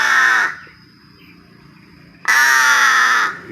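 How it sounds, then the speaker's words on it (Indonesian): A pet crow gives two loud, close caws, one at the start and one near the end, separated by a quiet pause. "adalah burung gagak"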